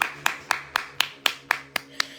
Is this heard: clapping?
yes